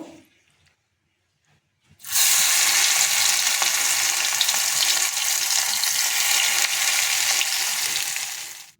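Egg-battered pakoras frying in hot oil, a loud steady sizzle that starts abruptly after two seconds of near silence and carries on evenly to the end.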